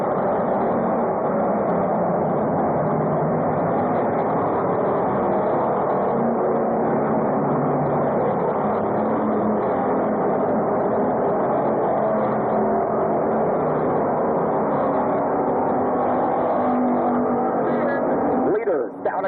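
Race cars roar continuously around an oval track during a 150-lap enduro championship at Orange County Fair Speedway, a loud steady engine drone throughout.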